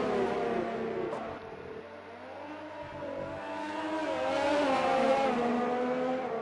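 A race car engine drones in a sim racing game at the Japanese GP, its pitch climbing steadily as the car accelerates out onto a flying lap, a loud continuous note with no talk.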